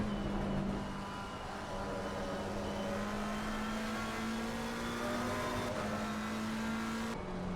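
A GT3 race car engine in Assetto Corsa Competizione at Silverstone drones steadily at high revs with a slowly rising pitch, continuous and close, with a brief shift near the end.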